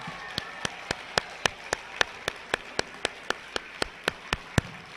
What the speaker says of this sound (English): Give yourself a nice round of applause one more time for being a National Blue Ribbon School.